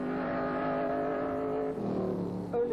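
A 1957 Formula 1 race car roars at Reims circuit in the French Grand Prix, its engine note holding steady and loud throughout, then shifting pitch near the end as it passes or changes gear.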